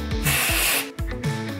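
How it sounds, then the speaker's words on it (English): KMS Hairplay Dry Texture Spray hisses from an aerosol can in two long bursts, close and loud, each followed by a short pause, with no talking. "you can use it also as a spray after your styling"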